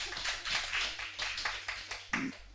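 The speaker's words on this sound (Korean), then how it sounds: "어우, 박수 좀 한번 해줘야 되겠네." A church congregation at a Sunday afternoon service claps in a short, loose burst, individual hand claps audible and fairly close, rising and falling with a stronger clap near the end.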